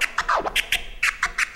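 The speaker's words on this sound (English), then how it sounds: "you put them in the opposite order, flare, chirp" A DJ scratches a record on a turntable, working a reversed flare-then-chirp combo: a quick series of sharp, rhythmic scratch bursts and swept chirps, close and dry with no talking.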